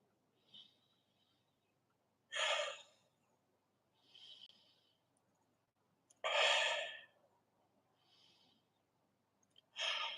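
Deep breaths during a kung fu stretching exercise, alternating audible inhales and longer forceful exhales in a slow rhythm, close and otherwise quiet.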